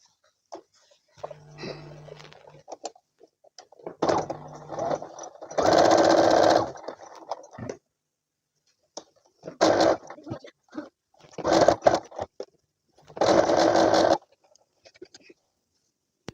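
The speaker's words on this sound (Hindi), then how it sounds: "अब हम इसी तरीके से दूसरा कंधा भी सिल लेंगे।" A sewing machine stitches the second shoulder seam of a coat sewn from trousers, palazzo and shawl fabric, running in several short whirring bursts separated by quiet pauses.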